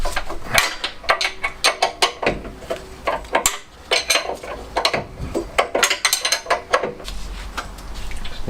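A spanner works a bolt on the engine of a classic Fiat 500, giving rapid metallic clicks and ratcheting bursts in irregular clusters, with clinks of metal parts, close and loud, with no talking.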